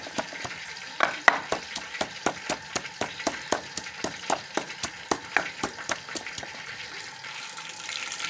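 Browned onions with coriander, green chili and mint sizzle softly in a pan while being mashed, with a steady rhythm of sharp, close taps of a utensil striking the pan, no talking.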